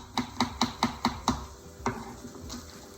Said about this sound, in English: So to cut up my garlic, I'm just going to take thin little slices